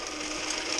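A gold panning spinner machine runs with a steady, dense mechanical whir, close and continuous throughout, with no speech.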